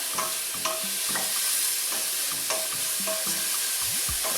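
Onion and garlic fry steadily in a pan for a spicy shrimp curry, a loud continuous sizzle broken by repeated stirring scrapes and clacks of a utensil, with no talking.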